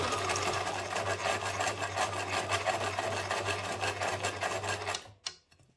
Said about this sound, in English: sew the spiderweb through the photo